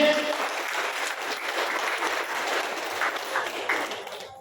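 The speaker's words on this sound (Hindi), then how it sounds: "तो जबरदस्त ताली हो जाए आप सभी के लिए।" A seated audience at a motivational business talk breaks into brief, energetic applause, dense clapping from many people that stays fairly even for a few seconds with a few sharper claps near the end.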